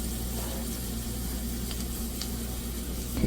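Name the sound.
dried red chillies frying in oil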